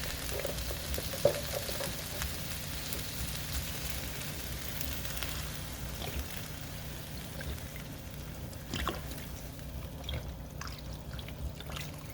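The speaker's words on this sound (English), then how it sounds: "So I'm going to add the vegetable broth" Vegetable broth pouring into a pot of green chile stew, a steady liquid trickle and splash mixed with faint sizzling, continuous and fairly quiet throughout with no talk.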